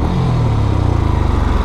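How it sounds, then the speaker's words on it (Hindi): Moto Guzzi California motorcycle revving close by, its exhaust a loud, deep pulsing throb that swells briefly in pitch and then settles into a rapid, steady beat. "और आप लोगों को एग्जॉस्ट सुना देता हूँ।"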